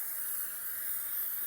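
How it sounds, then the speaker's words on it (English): Continuous hissing spray from an aerosol adhesive can coating a putting mat, even and close, running the whole time with no other sounds. "Spray it also on our birdie mat."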